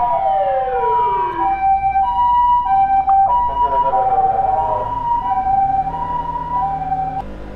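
An ambulance siren passes on a road, loud and close, its wailing tones sliding and switching in pitch over a steady rumble of traffic, with no talking.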